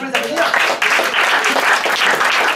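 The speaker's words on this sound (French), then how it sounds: "on peut les applaudir" An audience at a bar improv theatre show applauds the performers with loud, dense clapping that carries on steadily throughout.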